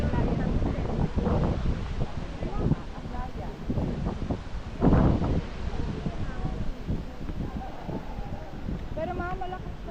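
Strong ocean waves on a Boracay beach roar under heavy wind buffeting the microphone, with a steady rushing wash and a louder surge near the middle, while people talk throughout.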